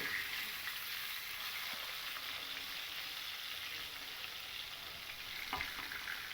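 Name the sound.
katla fish frying in oil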